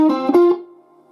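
A few slow sustained notes of a riff picked on an electric guitar, close and clear, the last note ringing out and fading on its own.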